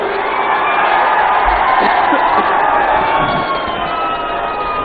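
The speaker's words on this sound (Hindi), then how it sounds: "माननीय ओम प्रकाश जी, जोरदार तालियों के साथ स्वागत कीजिए" At an outdoor political rally, a large crowd cheers and shouts in a loud, continuous roar of voices, with applause mixed in and no single voice standing out.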